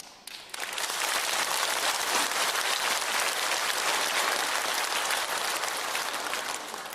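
A church congregation breaks into applause, which starts abruptly and stays dense and steady for several seconds, even-level clapping from many hands.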